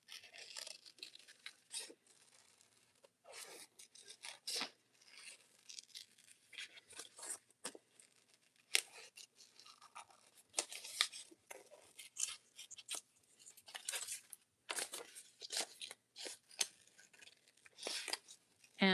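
Scissors snipping paper circle pieces for a junk journal craft, with repeated crisp cuts in irregular bursts and pauses, close and fairly quiet, some faint rustling of paper between snips.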